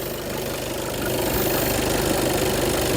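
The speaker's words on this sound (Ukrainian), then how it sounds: "Запустимо двигун" A 2017 VW Passat 2.0 diesel idles steadily at close range, a constant rough low rumble with a slight rise in level partway through.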